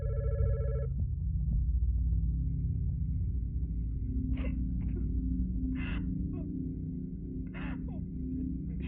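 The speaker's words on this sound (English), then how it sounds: "the phone is ringing again" A telephone rings in the horror video game God's Basement, one short electronic ring at the start over a loud low droning rumble, followed by faint, breathy gasping or crying sounds at intervals.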